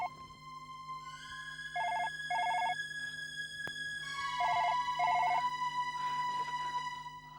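An electronic telephone ring sounds in bursts, two tonal trills followed by a pause and then two more, steady and fairly loud over a faint hum, with no talking.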